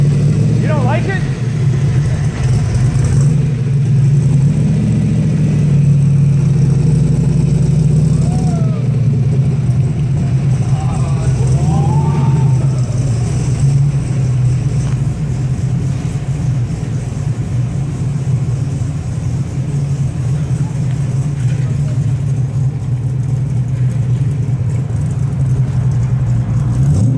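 A 1965 Cobra's engine runs continuously at a low, rumbling idle with slight throttle variations, loud and close, while people talk over it.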